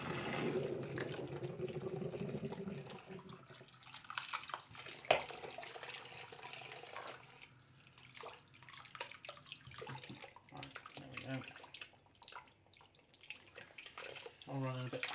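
Kitchen tap water runs into a sink during washing up, a soft gurgling splash with clinks of dishes, faint and close, while a person talks over it.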